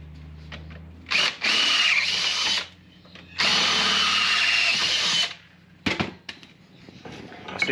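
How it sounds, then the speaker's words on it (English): Power drill boring through a car awning bracket, with two sustained loud bursts of whirring drilling separated by a short pause, then brief, choppy trigger pulses toward the end. "lube her up, and then push the drill bit through"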